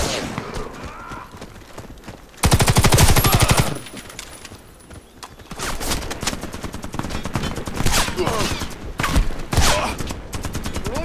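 Rapid automatic gunfire erupts in a loud burst, with scattered shots and game effects continuing afterward, from a friendly player shooting in the first-person shooter Warface.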